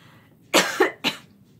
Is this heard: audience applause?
no